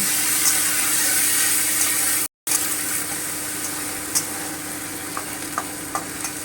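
Okra cooks down in a pan with cumin, ginger and chilli paste while being stirred, giving a steady loud sizzle with occasional scraping clicks and a brief break partway through.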